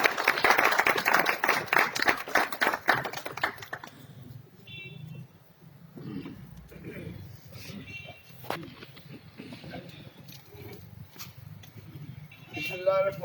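A crowd at an outdoor political corner meeting claps loudly for about four seconds to welcome former federal minister Sheikh Aftab Ahmed, then the applause dies down into quieter murmuring and scattered sounds.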